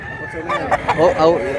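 A gamefowl rooster crows at a market sale in Mantalungon, Cebu, with several short, rising calls overlapping close by against a steady murmur of background crowd noise.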